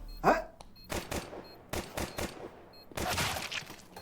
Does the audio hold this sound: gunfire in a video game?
yes